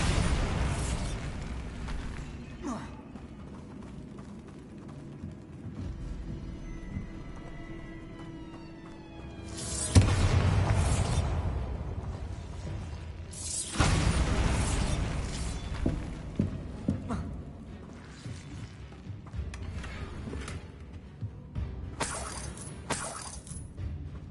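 A Bombarda blasting spell goes off in Hogwarts Legacy with a sudden loud burst and a debris-filled rumble. Further crashing bursts follow over a low game ambience.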